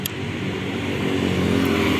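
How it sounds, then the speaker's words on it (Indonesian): A motorcycle rides through Jakarta traffic near the LRT construction at Velodrome, with a steady, loud engine drone and wind rumble and a faint higher note from nearby vehicles. "saya naik sepeda motor."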